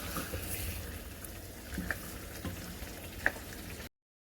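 Chicken karahi with yogurt fries in a pan with a steady, close sizzle and a few faint clinks, going quiet at the end.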